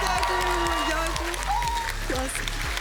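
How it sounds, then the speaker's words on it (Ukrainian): Studio audience applause during a blind audition on the Ukrainian singing show Voice of the Country, steady and full under a musical backing with a loud low rhythmic beat, while a voice speaks over it. "Ваші оплески!"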